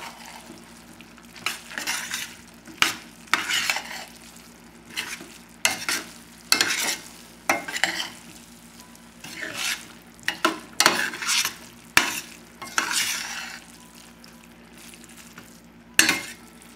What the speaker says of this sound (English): I always go into the rice, like halfway, and just mix it up.